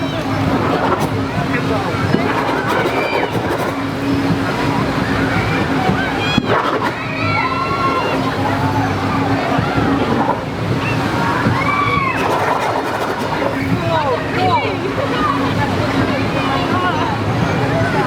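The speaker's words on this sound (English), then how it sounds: "he loves the idea of squirting other people with water" Water sloshes and splashes steadily at a water play area at Legoland Windsor in summer, amid a busy crowd, with voices chattering throughout and occasional louder bursts of spray.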